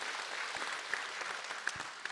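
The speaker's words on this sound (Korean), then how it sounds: "다시 한번 박수 한번 보내주시기 바랍니다" An audience at a Buddhist dharma talk at Jogyesa temple claps as a faint, steady wash of applause. It sounds distant, with a few sharper claps standing out.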